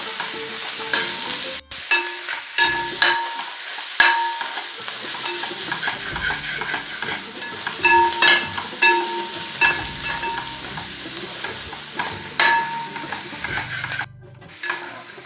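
Ghee bubbles and sizzles in a pan for Kerala-style ghee rice while a spoon scrapes and stirs in irregular, close strokes over a continuous frying hiss, with no talk.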